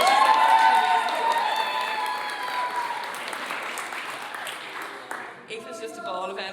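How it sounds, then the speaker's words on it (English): Audience at a celebration event applauding and cheering, a dense wash of clapping with whoops at first that thins and fades over several seconds, with a voice starting to speak near the end. "I want to give Aoife such a wonderful round of applause"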